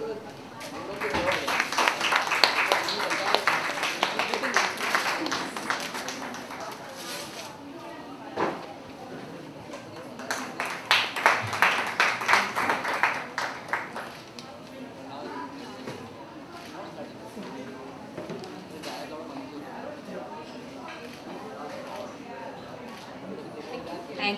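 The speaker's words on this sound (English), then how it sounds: "if you can please give Nirupama Subramanian once again an encouraging round of applause on her second book, Intermission" Audience applause at the launch of Nirupama Subramanian's second book, Intermission: two bursts of clapping, a longer one and then a shorter one, with indoor chatter and murmuring between them and afterward.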